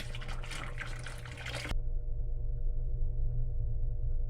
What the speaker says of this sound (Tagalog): bumibilis ng konti yung baba niya ng tubig ah.